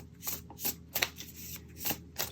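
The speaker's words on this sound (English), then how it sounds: "I shuffled the deck" Tarot cards being shuffled in several short, crisp riffling bursts with brief pauses between, close and fairly quiet.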